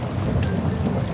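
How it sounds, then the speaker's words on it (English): Heavy rain pours steadily onto surfaces while low thunder rumbles beneath it, a dense, loud and continuous wash of sound throughout. "It's a season filled with cool breezes, splashes, and the sound of pitter-patter rain."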